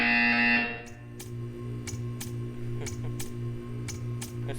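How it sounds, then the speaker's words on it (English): A short electronic buzzer in the video game Portal 2 blares at the start, then gives way to a steady series of regular ticking clicks. "You will hear a buzzer."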